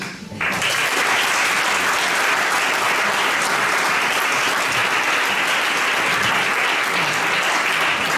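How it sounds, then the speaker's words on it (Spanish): After a brief quiet moment, sustained applause breaks out from the audience at a talk on a swimming club's history, a full, even roar of clapping that holds steady to the end. "para ellos va el aplauso y mi despedida"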